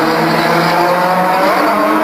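Drift cars at a D1GP All Stars competition in 2006 scream through a slide with loud, sustained tire squeal over high-revving engines, one car billowing smoke, steady and close throughout.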